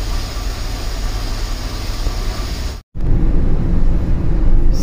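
A car with a freshly repaired CVT gearbox runs on Mawa Road, giving a steady, loud engine and road drone that cuts out for a moment before resuming just as strongly.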